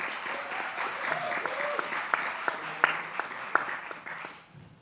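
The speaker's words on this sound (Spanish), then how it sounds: "Un fuerte aplauso, por favor, para Olinda." Applause from an audience at a Latin American film and impact forum, a steady patter of clapping with a few sharp claps standing out, fading out near the end.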